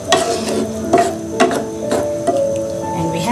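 Prawn masala stirred in a pan just after coconut milk goes in: a series of close, wet scraping strokes about every half second over a soft simmering sizzle.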